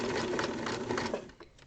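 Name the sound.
sewing machine stitching a buttonhole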